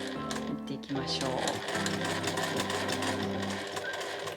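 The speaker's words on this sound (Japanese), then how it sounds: "家庭用ミシンで縫えますからラミネート。はい、じゃあまっすぐ縫っていきましょ" A home sewing machine stitches laminate fabric for a zipper pouch, running as a steady, fast mechanical whirr and chatter for the whole stretch while someone talks over it.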